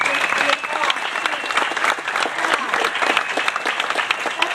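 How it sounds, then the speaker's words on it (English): Loud, sustained applause from an audience at a charity motorcycle ride event for kids, dense clapping filling the whole stretch with cheers and voices mixed in. "Give yourselves another round of applause."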